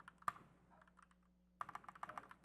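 Computer keyboard keys pressed during a live day-trading stream: one sharp isolated click, then a quick run of rapid, close key taps over a faint steady hum, with no talking.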